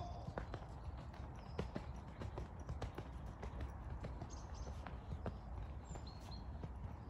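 A horse moves into a trot during a schooling session, its hoofbeats forming a steady rhythmic clip-clop over continuous outdoor background noise, with no talk over it.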